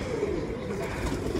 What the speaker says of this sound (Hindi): ये आ रहा कबूतर